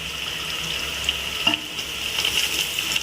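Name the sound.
sautéing green chilies, mint and coriander for prawn biryani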